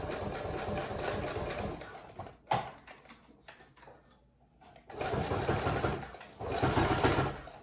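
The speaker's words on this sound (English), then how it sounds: "I'm going to put my feeder right there and go back and forth with a zigzag." Sewing machine stitching back-and-forth zigzag on a fabric face mask, in two bursts of rapid mechanical whirring with a quieter pause between them.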